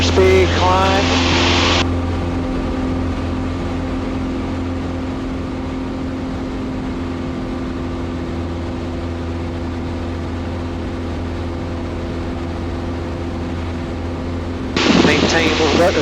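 A STOL CH 750 Super Duty light aircraft engine at takeoff power, heard as a steady, loud droning hum inside the cockpit, with brief bursts of noise at the start and end.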